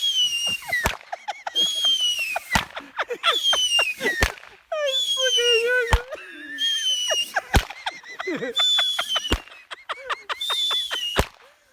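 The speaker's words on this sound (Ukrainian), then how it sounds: "Праздничный салют. представляем вариант бюджетного фейерверка." Budget New Year fireworks salute in Russia, repeated whistling rockets rising and ending in sharp bangs, about eight cracks spread across the stretch, close and loud with crackling between shots.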